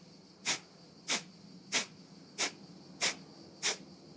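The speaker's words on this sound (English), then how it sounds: "This technique is called forced exhalation." Six sharp, forceful nasal exhalations in Kapalabhati breathing, evenly spaced about every 0.6 seconds, close and fairly soft, with quiet room tone between them.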